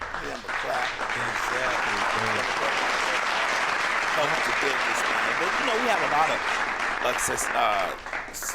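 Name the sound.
audience applause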